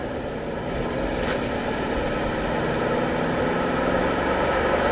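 A 1995 Chevrolet Impala SS with its 5.7-litre V8 rolling into the throttle on a test drive: a continuous low engine drone with road noise from inside the car, steady and fairly loud, no voices.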